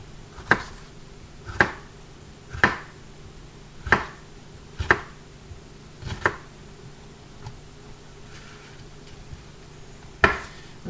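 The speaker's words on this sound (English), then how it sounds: "we want to pretty much chop it up as finely as we can" A knife chops a green pepper on a cutting board in sharp, distinct knocks spaced about a second apart, close and fairly loud against a quiet room hum.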